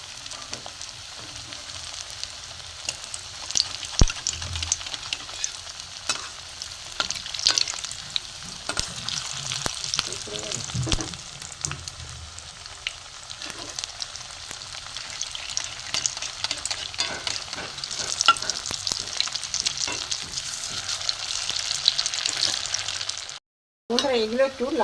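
Carrot pieces sizzle in hot oil in a pan, a continuous close crackle with utensil stirring and scraping throughout. The frying runs alone for almost the whole stretch, with a short gap near the end.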